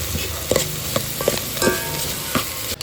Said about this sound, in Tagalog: ginisa ko na yung bawang sibuyas at saka luya